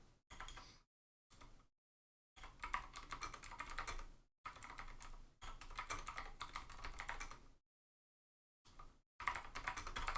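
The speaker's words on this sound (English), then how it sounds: "I'm so bad at typing." Computer keyboard typing comes in quick clicky bursts of rapid keystrokes separated by short silent pauses, close and clear with no voices.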